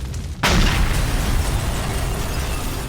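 A sudden loud cartoon explosion bursts after a brief moment, then a heavy rumbling roar lingers and slowly fades.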